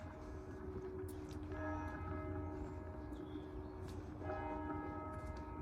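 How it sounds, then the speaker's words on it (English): Church bells ring out in a repeating peal from an English village church, sustained tones rising and overlapping, heard from some distance against a soft outdoor background. "There's the church bells going. Someone's in there ringing the bells."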